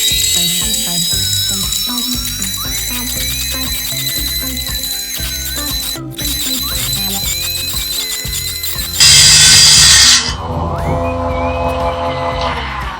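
A circular saw-blade sharpening machine runs loudly with a busy mechanical whir and ratcheting, tonal grinding, including a sharp high-pitched burst of grinding partway through.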